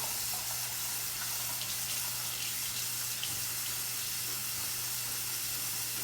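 Sink tap water runs steadily while a wig unit is shampooed, a continuous soft hiss with faint splashing and no talking.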